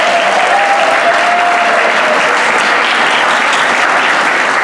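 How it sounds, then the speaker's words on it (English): A large audience applauding the soloists and duets at an evening show, thick, continuous clapping at a constant high level, with a faint tone running through the early part. "Please raise your hand and give them a wild round of applause."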